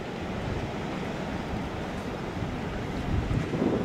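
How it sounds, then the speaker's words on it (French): Heavy sea swell from Hurricane Elsa rolling in off Martinique, a dense rushing wash of waves mixed with buffeting wind against the microphone, surging louder toward the end. "Il y a une belle houle qui rentre là."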